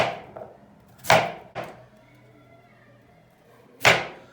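A few sharp, separate knocks spaced irregularly, a knife chopping potatoes on a cutting board, with quiet gaps between them.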